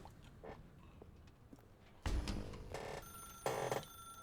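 An old-style telephone bell rings in the video game The Stanley Parable, two loud bursts of ringing following a thud, over quiet footsteps and room tone.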